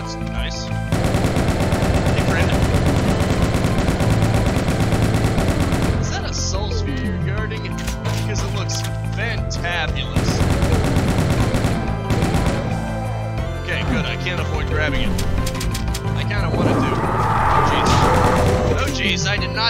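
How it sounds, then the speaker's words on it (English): Chaingunner firing rapid machine-gun bursts in Eviternity, a Doom mod, dense and loud repeated volleys stopping and restarting amid other game sounds and music, with someone talking over it. "It's a chain gunner around here somewhere"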